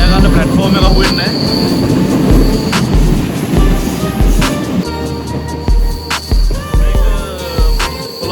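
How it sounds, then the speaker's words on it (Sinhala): A passenger train made of two coupled sets runs in southern Sri Lanka, close and loud, with rhythmic clacks over rail joints, metallic squeals and a constant rumbling roar. "ට්‍රේන් දෙකක් සෙට් කරලා තියෙන්නේ"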